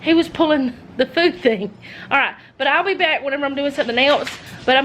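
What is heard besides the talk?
No distinct noise like a dog, phone or traffic.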